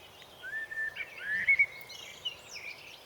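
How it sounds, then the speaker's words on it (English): A blackbird sings outdoors in a garden, a few thin, sweet phrases heard faintly at a distance over a quiet background with no one talking. "I think that's the blackbird singing."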